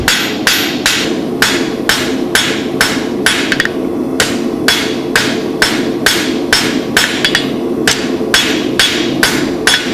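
A blacksmith hammers metal to draw out a taper, with steady, evenly spaced ringing blows, about two per second, struck close and loud over a faint hum.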